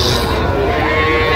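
A Sahiwal bull calf moos loudly and close at a busy weekly cattle market in Jessore, one brief call with voices and crowd noise mixed in.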